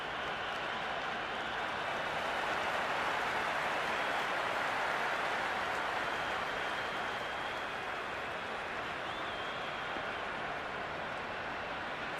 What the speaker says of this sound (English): It's evident and ever so audible that the crowd is at near bursting point with excitement at today's play.